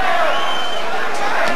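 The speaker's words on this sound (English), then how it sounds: "The crowd again will erupt at anything Chavez does." A boxing crowd roars for Chavez in his bout against Miguel Angel Gonzalez, a dense, sustained wash of cheering that stays loud throughout, with a commentator's voice running over it.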